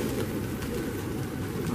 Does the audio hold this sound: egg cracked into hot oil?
no